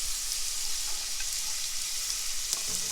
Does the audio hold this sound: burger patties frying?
yes